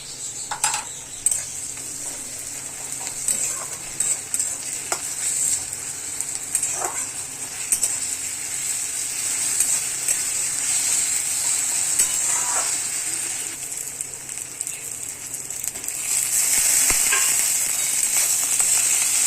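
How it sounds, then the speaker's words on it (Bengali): Ginger garlic paste fries with onions in a pan, a loud, steady high sizzle that runs throughout, with occasional scrapes and taps of a spatula stirring, swelling slightly near the end. "পেঁয়াজটা আমার ভাজা ভাজা হয়ে গেছে। এবার আমি আদা রসুনের পেস্টটা দিয়ে দেবো।"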